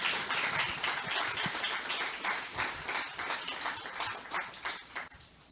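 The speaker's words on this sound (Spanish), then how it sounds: "Bríndele palmas al Señor." A church congregation claps together in a dense, fairly distant burst of applause that gradually thins out toward the end, with no speech over it.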